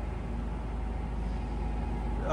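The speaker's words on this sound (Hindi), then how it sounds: "Currently the spindle RPM is at 200 RPM and as we can hear there is no noise, no vibration at all in the gearbox or in the spindle" A Harrison M-400 lathe spindle turns at 200 RPM with its gearbox engaged, giving a low, smooth, steady mechanical hum with no knocking or vibration.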